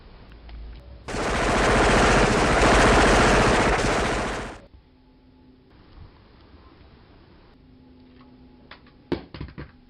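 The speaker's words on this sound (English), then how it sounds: "Fire! Shoot them! Fire at will!" Gunfire in an animated Barbie film sounds as one loud, sustained automatic burst lasting several seconds. It cuts off abruptly and gives way to quiet ambience with a few scattered sharp clicks near the end.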